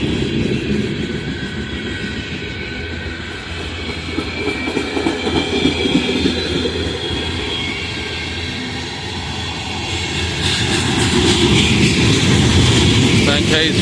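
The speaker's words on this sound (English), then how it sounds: "brand new Union Pacific boxcar" Brand-new Union Pacific boxcars of a freight train rolling past on the rails, a loud continuous rumble with rhythmic wheel clatter that swells toward the end as the train picks up speed.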